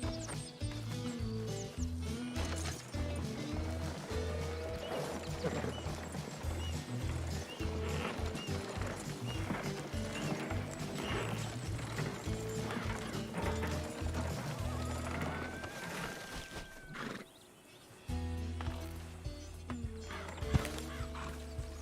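Horse hooves clip-clopping at a steady walking rhythm in the Western game Red Dead Redemption 2, with a whinny and a brief pause partway through, set against low ambient game sound.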